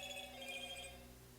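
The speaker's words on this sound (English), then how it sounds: "That was my phone." A mobile phone rings with a steady, faint electronic tone that holds on with no voices over it.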